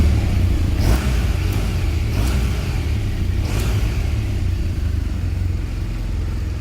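A 2016 BMW R1200RS motorcycle engine starts and rumbles loudly throughout, with a few sharp revs near the start, heard up close with no one speaking.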